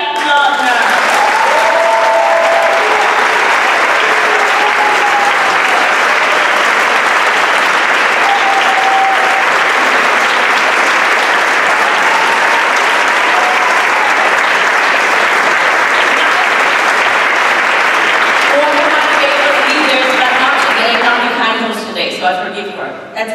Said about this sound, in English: put your hands together, your more welcome and energetic applause to Ulrika Lodner